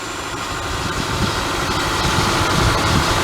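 A 2003 Honda Accord with VTEC idles steadily just after starting, a close, even engine hum with a slight vibration and no talking.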